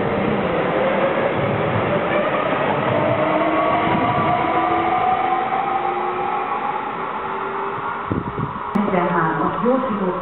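At Tárnok railway station in Hungary, a train rumbles and rolls steadily past with rail clatter and rising and falling tones, loud and continuous for about ten seconds, as a platform announcement plays beneath it.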